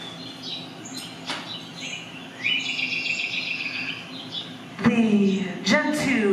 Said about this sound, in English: I'm going to give you bird noises anyway for this first piece.